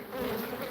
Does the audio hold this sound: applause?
no